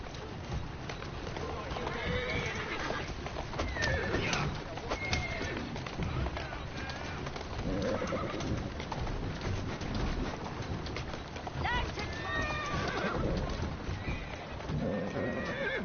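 Horse neighs and whinnies with clip-clopping hooves in the Assassin's Creed Syndicate video game, several whinnies over steady hoofbeats with birds and pigeons faintly in the background and a voice speaking.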